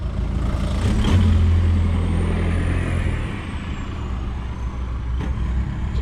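A truck or other vehicle goes by on a narrow lane near a car park close to a beach, loud and close, with a low engine rumble and a brief high air-brake hiss.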